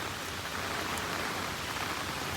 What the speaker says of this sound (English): This is some serious rain.